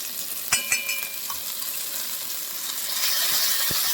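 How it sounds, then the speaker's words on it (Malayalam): Onion, green chilli and crushed garlic fried and stirred in a pan, a light sizzling hiss with a few sharp clinks of the spoon early on and a brighter frying crackle toward the end, no voices. "ഇതിൻ്റെ പച്ച മണം പോകുന്ന വരെ നമുക്ക് ഇളക്കി കൊടുക്കാം."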